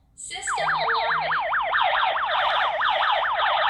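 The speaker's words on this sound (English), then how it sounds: "I'm going to actually set the panic and trigger my alarm system in panic mode." A home alarm system siren goes off in panic mode, a loud electronic wail that sweeps rapidly up and down over and over after a short beep, close and continuous.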